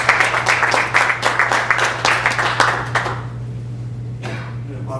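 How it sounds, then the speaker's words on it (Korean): An audience applauds to welcome a speaker at a church seminar event, a dense roomful of clapping that holds steady for a few seconds and then fades out. "박수로 맞이하겠습니다."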